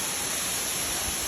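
Kawasan Falls in Balilihan, Bohol pours as a steady, dense hiss of falling water, close and unbroken, with no voices.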